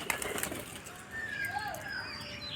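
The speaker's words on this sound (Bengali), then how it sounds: "দেখতে পাচ্ছি দেখো এটা উঠছে পায়রাগুলো" Pigeons lift off outdoors with a rush of flapping wings and soft coos over steady background noise, lasting only a couple of seconds.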